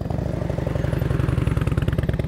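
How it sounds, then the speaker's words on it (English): A motorcycle engine chugs at low revs during slow-speed riding practice, a steady, loud, close putter with a rapid even pulse. "You hear your engine is too low."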